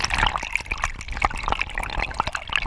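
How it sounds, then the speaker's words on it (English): Paddle strokes splashing through open water at a city park, a busy wet patter of drips and splashes with sharp bursts, close and fairly loud, no voices. "listening to that water as you paddle through it"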